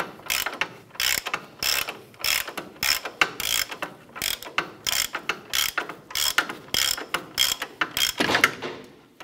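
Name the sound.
ratchet with 22 mm socket removing ball joint nut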